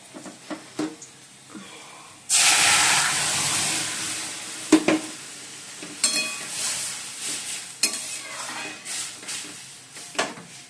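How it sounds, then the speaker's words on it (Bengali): Lentils hit a hot wok of fried onion, black cumin, dried chili and spices with a sudden loud hiss that settles into softer bubbling and sizzling, broken by occasional clinks and stirring knocks. "এবার ডালটা দিয়ে দেবো"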